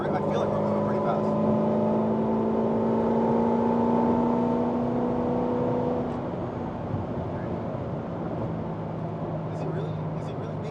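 A car drives fast with a steady, droning engine and road rumble from inside the cabin, easing slightly partway through.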